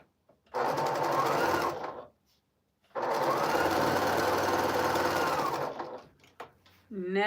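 A sewing machine with a dulling needle stitches in two sustained runs with a short pause between them, a close, steady mechanical whir, stopping near the end as a voice begins.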